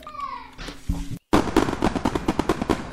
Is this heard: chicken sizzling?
no